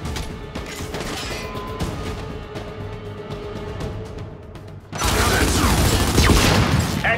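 Enemy gunfire in the video game Gears 5, with a clattery mechanical backdrop of rattles and ratcheting clicks that grows into a louder, denser burst of shooting and debris noise over the last couple of seconds.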